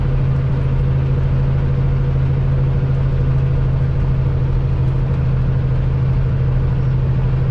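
Truck engine labouring up a long steep highway grade, a loud continuous low drone with a strong steady hum, close and unbroken, no talk.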